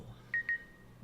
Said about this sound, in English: Where'd that beep come from?